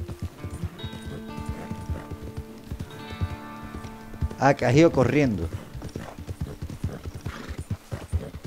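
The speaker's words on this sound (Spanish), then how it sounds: "Me tiene el caballo aquí herido" Hooves clip-clop rhythmically as a horse runs in a video game, with a loud whinny midway, under steady talk in Spanish.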